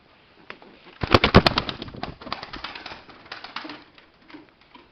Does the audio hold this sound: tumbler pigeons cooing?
yes